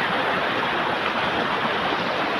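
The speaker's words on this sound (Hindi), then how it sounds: "कितनी तेज धारा।" Fast-flowing canal water rushing over stones along the Narmada, a steady broadband roar that stays loud, close and unbroken throughout, with no voices.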